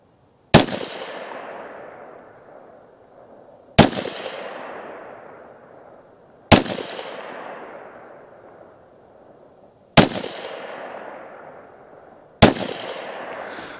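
Five loud, evenly spaced rifle shots from a KelTec CMR30 fired at a 100-yard target, each a sharp crack followed by a long rolling echo that decays over about three seconds before the next.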